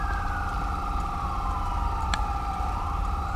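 Wailing ambulance siren in GTA V with the LSPDFR police mod, a steady two-tone sweep over a constant low engine rumble and a sharp click midway.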